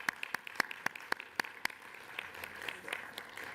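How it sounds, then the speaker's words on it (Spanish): Scattered hand claps from an audience at a signing ceremony in Mexico's Chamber of Deputies, sharp and fairly distinct early on, then thinning into softer, denser clapping that fades. "Tania Hernández, para quien pido un aplauso"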